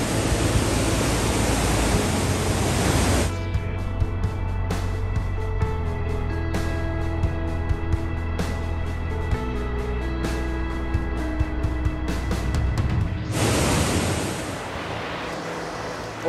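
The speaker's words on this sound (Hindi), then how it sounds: "so this is Beas river" The Beas River in Old Manali, Himachal Pradesh, rushing with a steady broadband roar of flowing water. Close and continuous, with faint background tones in the middle stretch.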